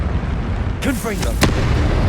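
A Confringo spell explosion in Hogwarts Legacy lands as a single booming burst about midway through, over a continuous low rumble of game sound.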